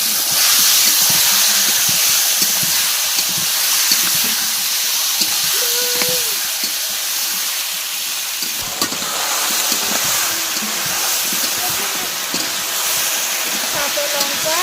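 Meat added to a pan of fried spice paste with green chilli and oil in a home kitchen, a loud steady sizzle and hiss that runs throughout, with light stirring scrapes.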